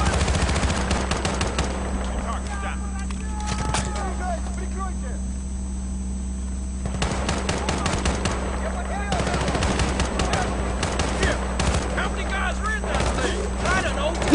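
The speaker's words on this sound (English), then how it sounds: "Shooting a shotgun from way back there." Rapid gunfire, including shotgun blasts, crackles through a Modern Warfare 2 multiplayer match in repeated dense bursts with short gaps, while a voice talks over the action.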